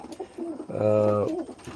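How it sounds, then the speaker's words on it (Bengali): A single close, low, rounded coo from a domestic pigeon swells and fades over about half a second, with faint rustling before and after. "এই যে এই নট কবুতরটা ভালো ফ্লাই করতেছে"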